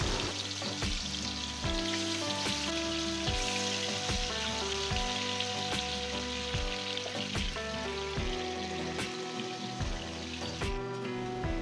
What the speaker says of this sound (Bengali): পাঁচ মিনিট মাংসটা কষিয়ে নেব। অনেকটা জল উঠেছে, জলটা একটু শুকিয়ে যাওয়া পর্যন্ত।